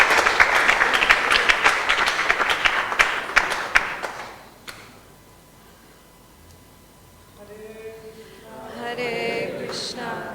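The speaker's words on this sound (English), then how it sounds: "So let's give Prabhu a round of applause and appreciation" An audience at a devotional awards ceremony breaks into loud applause that lasts about four seconds and then dies away, followed by a quiet pause and then a speaking voice over the room.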